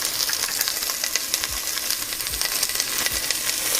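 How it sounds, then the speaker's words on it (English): Onions and garlic fry in lard in a pan with a steady, loud sizzle and crackle, and a few soft low knocks as the pan is stirred. "Now you want to cook these onions until they start getting somewhat soft."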